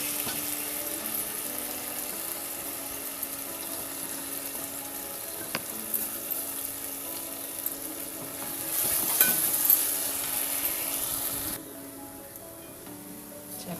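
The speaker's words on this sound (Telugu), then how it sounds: "ఇది వేసుకొని ఇలా ఫ్రై చేద్దాం పచ్చివాసన పోయే వరకు." Ginger paste fries in a pan for crab curry while being stirred, a soft steady sizzle with occasional scrapes that swells briefly near the end before the sound drops lower.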